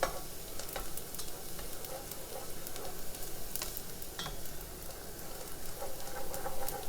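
Red onions sizzling in a generous amount of oil over lowered heat, a continuous crackling fry with light stirring ticks scattered across it, close and steady without speech.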